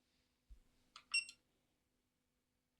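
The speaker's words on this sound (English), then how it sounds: "it does click when I run the tests, as well as the beep" A cheap electronic component tester used for CB radio repair gives a soft click followed by short, high electronic beeps during a test run, faint and isolated in a quiet room.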